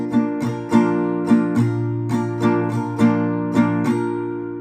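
Acoustic guitar strummed in a steady, even pattern without muted or accented strums, ringing chords flowing continuously, close and clear with no voices.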